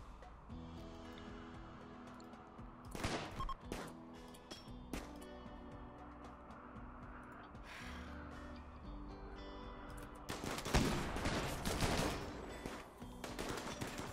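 Bursts of gunfire from the video game Rimworld, with scattered shots early on and a denser, louder volley near the end over a steady game music bed.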